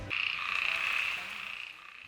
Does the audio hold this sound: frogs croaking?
yes